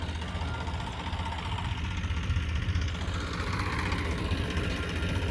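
Tractor engine idling in a field during sowing, a steady low rumble with slight knocking, continuous and fairly close throughout with no talk.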